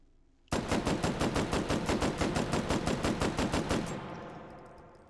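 A Browning Automatic Rifle fires in a virtual shooting-range game: a loud, evenly spaced string of about seventeen close shots in quick succession, then a short reverberating tail as the firing stops.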